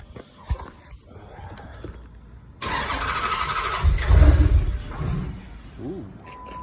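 After a few quiet seconds an SRT8 Dodge Charger engine cranks and catches abruptly, then revs up loudly before settling into a rough idle, close by.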